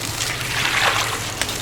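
Water pours in a steady, close hiss into a steaming dish of sausages and chillies, a short continuous splash lasting under two seconds.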